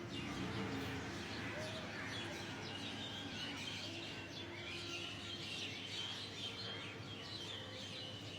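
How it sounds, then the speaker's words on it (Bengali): Many birds chirp and call continuously against a steady morning outdoor background among many trees, a busy overlapping chorus at moderate distance. "অনেক অনেক অনেক পাখি আছে এখানে"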